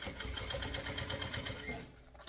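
A sewing machine stitches a thermal bottle-carrier bag, running in a fast, steady, close-up rhythmic chatter before slowing and stopping near the end.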